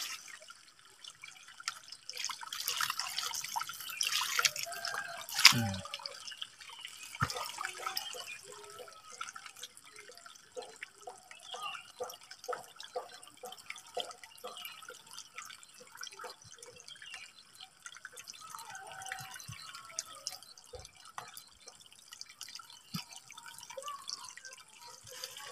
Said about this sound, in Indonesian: Terakhir kita akan siram.